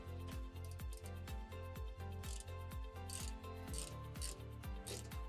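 Ratchet with a 10mm socket removing a nut on an Eberspächer L3 hydronic heater in a 2025 Van Hool coach, heard as an even run of close clicking strokes through a steady ongoing background.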